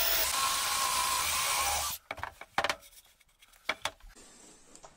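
A drill bores a through hole in 15 mm plywood with a loud, dense whirring burst lasting about two seconds, then stops and gives way to scattered light knocks and handling clicks.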